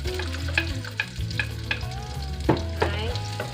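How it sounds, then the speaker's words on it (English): Onions with garlic frying in a pan for beef afritada are stirred with regular scraping strokes over a soft, constant sizzle, heard close with no speech. "We'll just mix it until the onion will be a little bit cooked."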